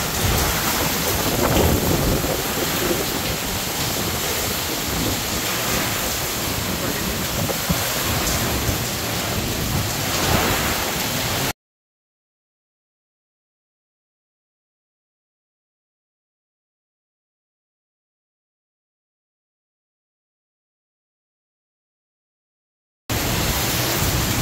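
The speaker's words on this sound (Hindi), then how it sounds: "बहुत तेज़ बारिश है।" Heavy rain in flooded Lahore roars as a dense, steady hiss for several seconds, cuts to silence, then briefly returns at the end.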